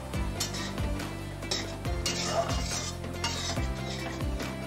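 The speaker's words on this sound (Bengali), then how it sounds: "এবার আমি ঢাকাটা তুলে দেব" A metal lid is lifted off a cooking pot of ridge gourd and moong dal curry, with a few close, bright clinks and scrapes of metal against metal over a low kitchen hum.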